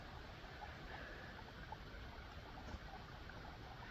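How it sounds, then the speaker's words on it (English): A creek flows past a hiking trail crossing in Shawnee National Forest, giving a steady, soft broadband rush of moving water that stays faint and even throughout, with no voices over it. "we've made it down to our first, well, actually probably second or third creek that we're crossing"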